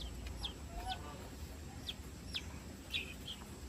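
A hen clucks softly to call her dozen or so young chicks to food inside a coop, giving faint, scattered calls spread across a few seconds over a steady background hum.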